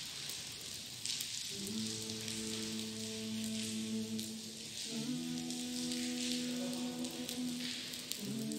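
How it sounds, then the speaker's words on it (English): Rain falling at Fatih Mosque in Istanbul's Fatih district, a steady hiss of drops on hard surfaces with a droning tonal hum underneath, continuous and moderately soft, with nobody speaking. "It's rainy"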